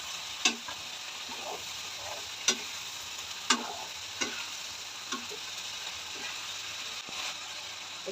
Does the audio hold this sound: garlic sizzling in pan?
yes